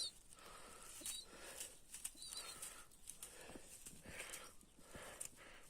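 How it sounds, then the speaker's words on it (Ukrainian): A young pouter pigeon chick flaps its wings in short repeated bursts, close by and fairly soft, with light rustling in between. "Ну, суперове голублятко."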